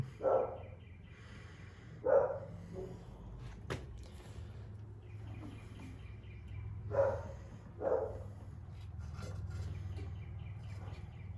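A pet dog barks at neighbors in a quiet outdoor setting, giving about four short, separate barks spaced several seconds apart, moderately close, over a low steady background hum.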